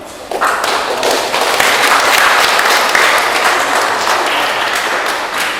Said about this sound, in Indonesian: Kita menyambut gembira pasangan keluarga ini dengan tepuk tangan.